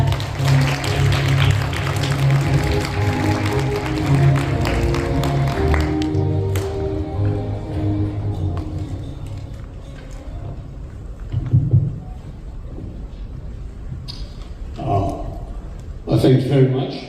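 A conference audience gives warm applause as two speakers are welcomed back onto the stage at a global leaders' forum opening ceremony. The applause is a sustained, dense wash of clapping, and a host speaks over it before it fades into quieter talk.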